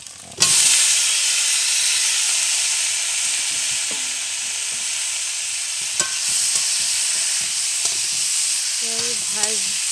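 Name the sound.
fried cauliflower added to pan and sizzling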